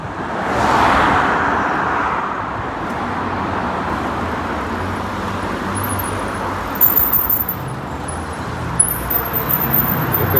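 A car rolls off on a weekend ride, its steady engine and road noise droning close by, with a few sharp knocks and rattles toward the end.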